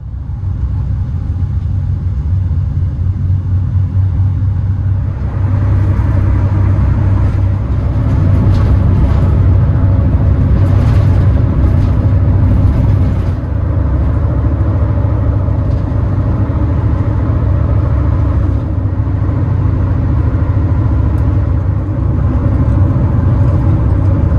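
A car cruises along a highway on a long road trip near El Paso, giving a steady, close road and engine rumble throughout with no talk.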